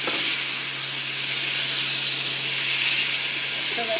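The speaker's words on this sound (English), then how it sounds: "into a pan is our pork stock" Pork stock poured into a hot pan for pork Marsala sauce, producing a steady, fairly loud hiss and sizzle with a low constant hum underneath and no speech.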